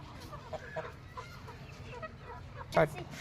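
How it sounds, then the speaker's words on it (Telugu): Faint clucking from young fighting-rooster chicks comes in short scattered calls, with quiet voices and outdoor noise in the background. "ఇది మా పందెం కోడి పిల్లలు."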